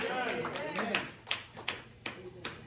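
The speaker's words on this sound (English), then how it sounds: "Somebody clap your hands and give God a word." A church congregation claps hands during a sermon, a run of sharp, roughly evenly spaced claps close by, mixed with voices talking over them.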